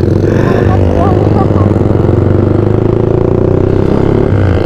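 A motorcycle ridden with no exhaust muffler makes a loud, steady, close engine drone with rough clatter, continuous throughout.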